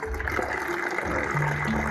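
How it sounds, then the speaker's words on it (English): Water rushing steadily through a compact instant water heater, a continuous close hiss and gurgle with a faint rising tone near the end. "Now first I turn on the water supply."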